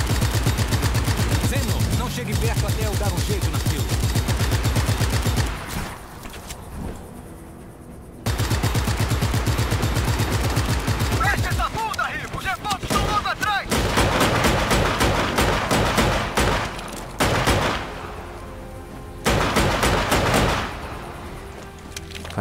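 A powerful gun in Just Cause 3 fires long, loud rapid-fire bursts, broken by short pauses and thumping impacts, close and dense throughout, with a voice faintly under the barrage.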